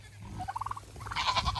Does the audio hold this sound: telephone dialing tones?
no